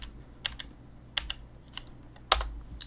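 Scattered keystrokes on a computer keyboard, typed as a Windows 11 command is entered, come as soft clicks with a few sharper taps over a low steady hum, with no voices.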